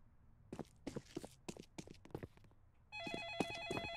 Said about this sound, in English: Oh, the phone's ringing.